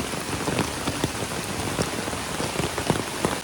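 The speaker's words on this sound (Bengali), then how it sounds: "আজকে এত জোরে বৃষ্টি হচ্ছে" Heavy rain pours down continuously, dense patter drumming on a nearby surface with scattered louder drops, no voices.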